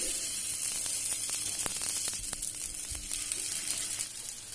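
Chole tikki shallow-frying in refined oil in a pan, a bright continuous hissing sizzle dotted with small sharp pops and crackles, close and steady, with no talking.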